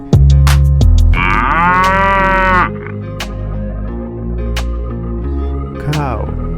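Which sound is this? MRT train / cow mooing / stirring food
cow mooing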